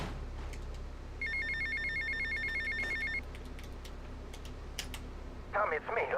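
In Grand Theft Auto: Vice City on PS2, an in-game phone rings with a repeated electronic trill for about two seconds, heard over background game sound and a player's voice, followed by a brief burst of other game noise.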